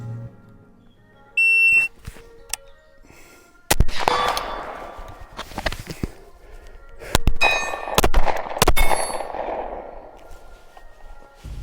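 Gunshots crack sharply at a shooting range, several spaced shots each followed by the ringing clang of rounds striking steel targets, along with a timer's electronic beep and no talking.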